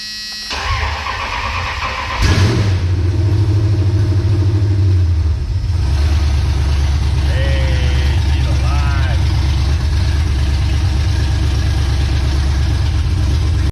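A HEMI V8 swapped into a second-generation Dodge Ram 1500 cranks and fires up with a sudden roar, then settles into a deep, steady idle rumble nearby, with a brief voice in the background.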